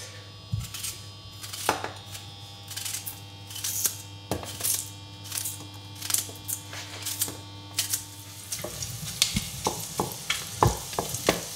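Butter melting in a saucepan with sliced onion gives off a steady, close hiss under a constant electric hum, punctuated by frequent knife taps and chopping knocks on a board.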